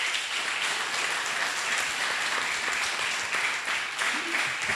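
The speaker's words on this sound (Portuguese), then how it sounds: "Peço-vos mais uma salva de palmas" Audience applause at a tribute event honouring poets of liberty, a steady continuous clapping texture throughout, moderately loud and fairly distant, with no speech over it.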